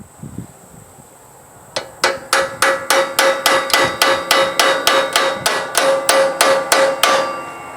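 Steady metallic hammer taps knock a part into place on a Kuhn hay tedder during repair, about sixteen evenly spaced ringing strikes after a short quiet start, close and clear with no talk.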